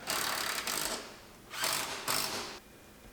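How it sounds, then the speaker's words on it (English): Ratchet wrench backing out the front bolts on a vehicle cab panel, several short bursts of close, quick clicking separated by brief pauses. "Now I got to take those front few bolts out"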